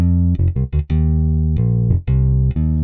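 Modo Bass 2 virtual bass guitar through a tube amp plays a loud, close bass line mixing quick staccato plucks with held notes, each attack sharp and the tone full and rounded.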